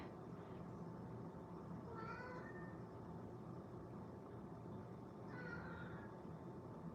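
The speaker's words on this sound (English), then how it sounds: "And you will hear my kitty." A domestic cat meows twice, each a short rising cry a few seconds apart, faint against a constant low background hum.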